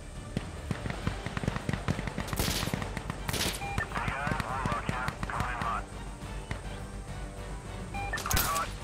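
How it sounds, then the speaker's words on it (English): A called-in strafing run in a video game rips through as dense, loud bursts of gunfire and explosive cracks, with voices talking over the barrage. "Calling a strafe one on the point."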